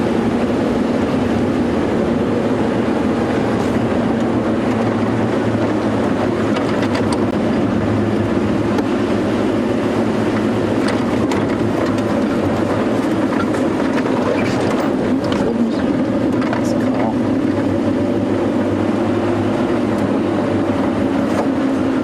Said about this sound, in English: Especially not with a powerful wind blasting up from the south.